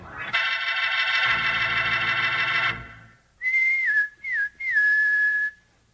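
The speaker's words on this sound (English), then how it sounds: "Sounds like a pal of yours whistling for you" A sustained whistled tone with a backing sound, followed by three short rising-and-falling calling whistles from a person, loud and near.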